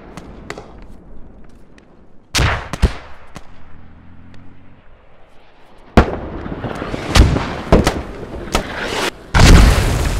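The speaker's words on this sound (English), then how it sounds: "Hey, careful with those mortars." Mortar rounds explode in the video game Squad, a series of loud booming blasts and sharp cracks arriving in scattered bursts, some close and heavy, others thinner, with quieter rumbling gaps between.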